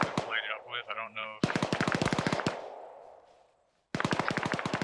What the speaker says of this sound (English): I got a machine gun right here I could light it up with